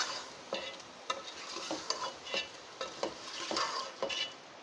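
Chicken nihari with nihari spice mix being stirred in a pot, a spoon scraping and clinking against the metal in regular strokes over a soft simmering sizzle, close and moderately loud with no talking.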